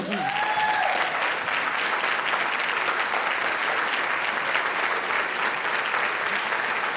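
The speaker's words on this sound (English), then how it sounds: "just stand up really quickly so we could give you a round of applause" Sustained audience applause for the ambassadors at a chamber of commerce annual meeting and community award ceremony, steady and full for about seven seconds, no talk over it.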